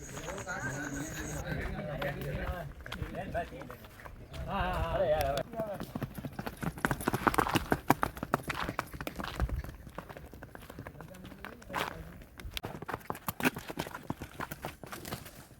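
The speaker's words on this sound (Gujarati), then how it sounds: "ઘોડીને રેવલ ચાલ ચલાવે છે" A mare's hooves clip-clop steadily in the revaal gait, a quick even rhythm of hoof strikes on the ground, with people talking over it throughout.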